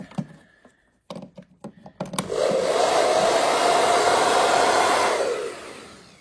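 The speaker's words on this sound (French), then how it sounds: "Donc c'est un sèche-cheveux" A few clicks and handling knocks, then a hair dryer powered by a PECRON E2000 LFP battery station switches on and blows with a steady loud whoosh for a few seconds before winding down.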